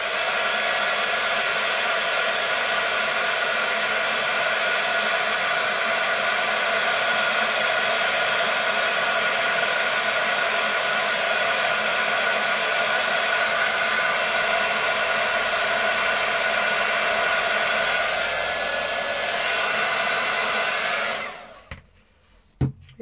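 A heat embossing tool blows hot air to melt embossing powder on a small card, a loud steady fan roar running unbroken for about twenty seconds before cutting off.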